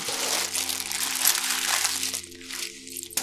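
A plastic bag from an herbalist crinkles and rustles continuously up close, with a steady low hum underneath and the crackling thinning out toward the end.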